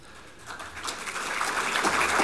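Audience applause at a SYRIZA Central Committee speech by Alexis Tsipras, a dense wash of clapping that swells steadily louder over a couple of seconds, with no speech over it.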